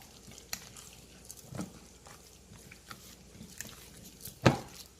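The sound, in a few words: stirring mozzarella into lasagna mixture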